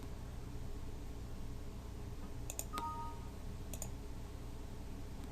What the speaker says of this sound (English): I'm going to do that by clicking on these X's